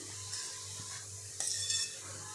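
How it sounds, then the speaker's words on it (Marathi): Carrot halwa sautéing in a pan on a low gas flame, with a steady low hiss and faint scraping stir strokes, quiet and close, with no speech. "2 ते 3 मिनिटे आपण छान असं हे मंद गॅसवर परतून घेणार आहे"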